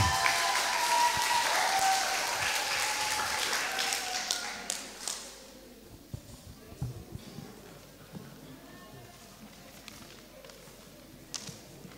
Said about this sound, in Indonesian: kita berikan aplaus dulu adik-adik kita